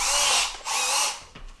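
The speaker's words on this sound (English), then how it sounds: "you're just going to drill in, and if you have a stud, it's going to kind of stop on the stud" A small drill bit bores at low speed into drywall over a wood stud, a close, steady whine running in two bursts with a brief dip between, then a short lower grind as the bit meets the stud.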